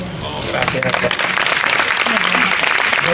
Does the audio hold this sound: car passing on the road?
no